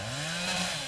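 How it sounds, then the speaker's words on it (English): A chainsaw in the game Dead Island runs loud and close in a steady continuous buzz, with no voices over it. "and a chainsaw"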